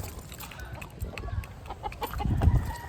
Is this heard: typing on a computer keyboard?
no